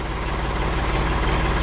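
A Ford 4400 tractor, frozen to the ground and just started with ether, runs at a steady close-up idle, a continuous loud chugging engine drone.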